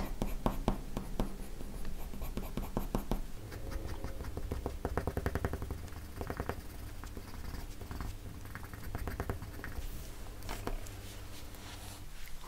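A red colored pencil scratches across paper over watercolor while a rose is drawn in mixed media, with continuous close, crisp strokes in quick repeated rhythm.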